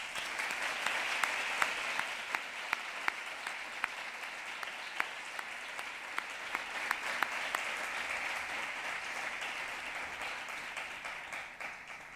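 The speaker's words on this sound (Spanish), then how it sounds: "les demos un aplauso" A graduation ceremony audience applauds in a steady, even wash of clapping that holds for the whole stretch, moderately distant, with a few sharper individual claps standing out.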